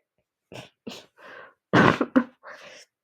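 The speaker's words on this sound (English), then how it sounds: "I am recovering from the flu, so I have a bad cough" A person recovering from the flu coughs and clears their throat in a series of short, rough bursts. One burst is louder and harsher than the rest, and the sounds are close and dry with silence between them.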